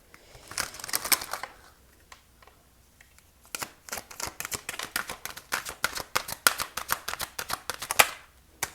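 Oracle cards being shuffled by hand, a quick flurry of crisp riffling clicks at first, then after a short pause a longer run of rhythmic card snaps, close and fairly quiet.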